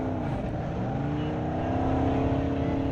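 An off-road buggy engine drones and revs steadily under load while dragging a big tire in a tow test, a loud continuous motor roar that builds slightly toward the end.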